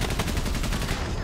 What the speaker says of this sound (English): Man, those machine guns are